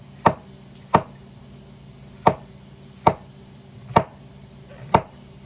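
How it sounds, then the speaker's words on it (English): A knife slices mushrooms on a cutting board in a home kitchen, making six crisp, evenly spaced chops about a second apart, close and clear over a faint steady background hum. "Just slicing these like I normally would."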